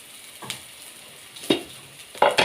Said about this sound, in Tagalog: ang ingay ng ating kaldero